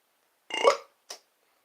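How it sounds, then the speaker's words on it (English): A man lets out a loud, close burp lasting about half a second, followed by a shorter, quieter second burp, with silence around both. "Oh wow, I can burp on the family show."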